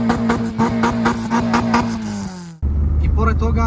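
A Renault Megane with the F7R 2.0 16V engine and a straight-pipe stainless exhaust with a Momo Kors Group N rear muffler revs in loud, rhythmic bursts, then drops off abruptly into a rough idle.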